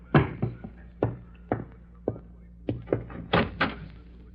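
Someone knocks at a door with a series of dull, wooden thunks, about ten irregular raps spread over several seconds, heard fairly close in a quiet interior.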